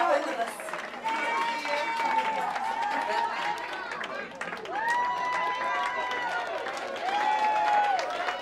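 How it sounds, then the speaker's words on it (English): Audience applause and crowd noise greet contestants, a group of grannies, as they come in at a British caravan holiday park event. The clapping runs steadily throughout, with a voice and crowd chatter on top. "Give them a round of applause as they come in."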